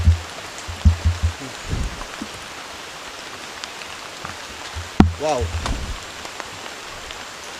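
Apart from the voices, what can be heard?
drizzling rain in a forest at night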